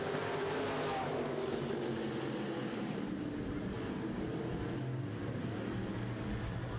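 Midwest modified race cars accelerate at the green flag on a dirt oval, a dense, steady roar of many engines held at a constant distance, with no talk.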